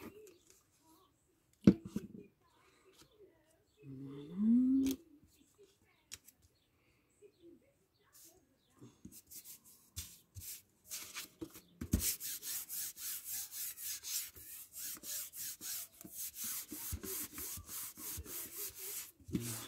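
Small paper die cuts are cut by hand: after a few isolated taps and rustles, a run of close, repeated scraping snips follows in a steady rhythm, with no talk.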